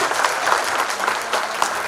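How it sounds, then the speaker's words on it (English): Steady applause from a seated audience at a medical oration for a doctor, dense continuous clapping at even loudness with no talk over it. "Once again, a big round of applause to Dr. Prasad."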